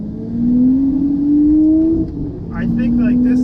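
A Lamborghini Murcielago LP640 revs hard under acceleration, its engine note climbing steadily, easing, then rising again, close and loud, with someone talking over the last second.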